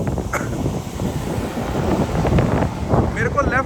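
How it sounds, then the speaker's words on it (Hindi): A strong headwind roars and buffets across the microphone of a cyclist riding on a hill road in India, a steady rumbling gust that swells toward the end. "लेफ्ट साइड से ही हवा चल रही है, हेड विंड"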